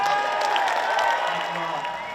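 A crowd at a US sporting event roars and cheers together in a dense, echoing wash of voices that fades slightly toward the end.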